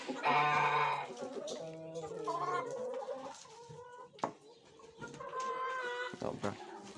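Hens cluck and cackle in a farmyard, several birds calling over one another at close range, with brief sharp knocks and rustles between calls.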